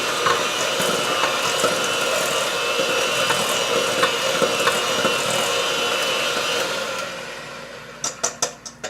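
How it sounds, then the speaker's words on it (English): Apple bread batter whisked in a bowl gives a dense, rapid rattling churn for about seven seconds, then it slows into a few separate clinks and taps before stopping. "The next thing I'm going to do, I'm going to whisk it."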